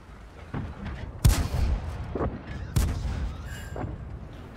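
Two heavy tank cannon blasts from a Panhard EBR 75 (FL 10) about a second and a half apart, loud booming shots with rumbling tails, in World of Tanks on the Overlord map.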